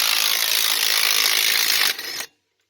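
An impact or ratchet tool works a rusted axle nut loose on a Cadillac CTS, making a harsh continuous rattling buzz for about two seconds before it stops abruptly into silence.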